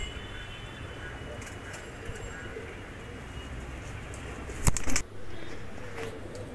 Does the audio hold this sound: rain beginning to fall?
no